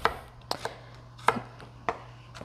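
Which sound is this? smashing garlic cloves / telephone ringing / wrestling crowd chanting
smashing garlic cloves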